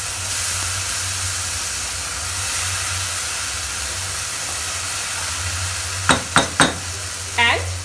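Yogurt mixture being stirred into frying baingan masala in a pan: a steady soft sizzle and hiss with a low hum beneath, then a few quick, close scraping strokes of the spoon near the end.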